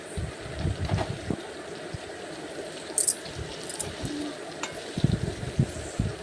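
Pumpkin chop fritters fry in hot oil in a pan, with a continuous close sizzle broken by bursts of scraping and stirring as they are turned and broken apart.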